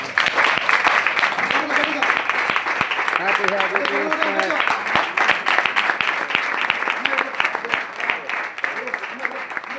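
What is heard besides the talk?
audience applause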